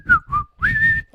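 A person whistles a short three-note phrase, close and clear, with breathy rushes of air under each note and nothing else audible.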